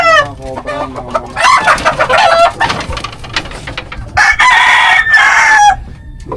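Chickens cluck in busy bursts while a rooster crows loudly nearby, with calls overlapping and pausing in an outdoor setting.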